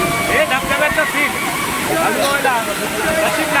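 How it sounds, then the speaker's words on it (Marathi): Rushing water from the Amboli waterfall in the Konkan hills, a steady loud roar that runs the whole way through, with voices faintly underneath. "हे धबधब्याचं फील"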